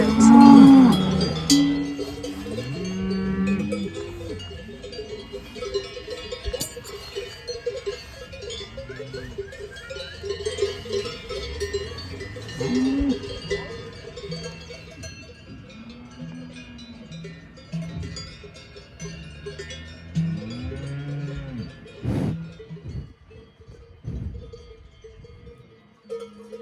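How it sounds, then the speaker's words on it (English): Cowbells clank and ring continuously on cattle at a Swiss cow parade, with bells sized to each cow, layered with repeated lowing moos from several animals nearby, steady and moderately loud throughout. "The bells are given out according to the size of the cow"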